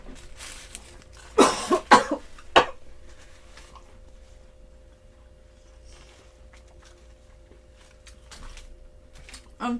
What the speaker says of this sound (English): The cracker dust went in my throat and I just had to cough.